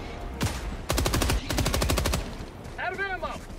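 Rapid automatic gunfire in Helldivers 2, in several sharp bursts of close shots, followed by a short spoken voice at the end.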